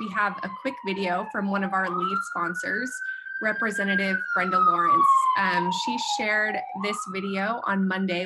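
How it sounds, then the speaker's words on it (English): An ambulance siren wails continuously in the background, its tone gliding slowly up and down, while someone speaks over it throughout. "apologies for the ambulance noise in the background"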